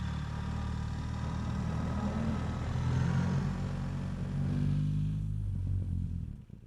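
A BMW R 1300 GS Adventure motorcycle engine runs in enduro mode with manual shifting, a steady close rumble with shifting low harmonic tones that rise and fall, continuous for several seconds before fading out at the end.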